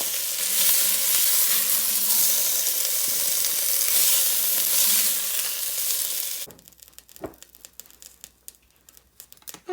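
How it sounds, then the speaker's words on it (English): A chuck roast searing in a hot pan with olive oil gives a loud, steady, close sizzle for about six seconds, then cuts off abruptly to quiet, scattered clattering. "I'm going to sear the chuck roast"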